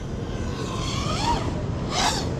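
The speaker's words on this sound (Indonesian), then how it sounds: "Keren banget drone-nya, Pak." A drone flies overhead during outdoor sport photography, its whirring motor tone rising and shifting in pitch as it passes, moderately loud over faint background noise.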